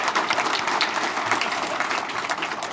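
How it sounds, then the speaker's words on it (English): An audience applauding at a breakfast forum with Portland's mayor, dense steady clapping from many hands at moderate volume with no break. "Applause, please, thank you."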